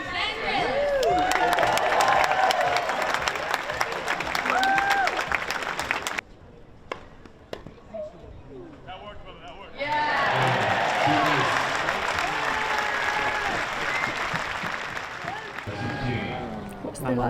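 A large tennis tournament crowd claps and cheers loudly for the team captains, a dense roar of applause and whoops that drops briefly to a quieter murmur before surging back.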